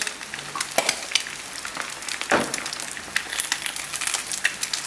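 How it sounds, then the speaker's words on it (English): Eggs frying in a seasoned cast iron pan with salt and pepper, giving a continuous close sizzle with crackling pops and occasional scraping stirs; no one speaks. "we're just going to let this fry a little bit"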